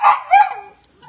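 A female dog barks and yips during a veterinary exam: two quick, close, high-pitched barks, then a faint whimper.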